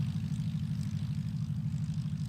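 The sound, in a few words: small propeller plane landing in backcountry landing competition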